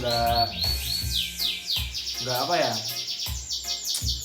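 A canary sings close and loud, a busy run of bright chirps, trills and whistled phrases with hardly a pause.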